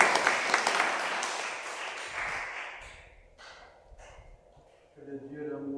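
A church assembly applauding during a prayer gathering, with a broad wash of clapping that swells and then tapers off, followed by a voice beginning to speak.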